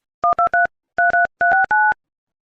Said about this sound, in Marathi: तुम्ही बघा तिला फोन लावतो आता